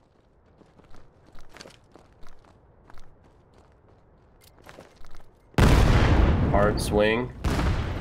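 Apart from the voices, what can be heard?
gunfire in the video game Vail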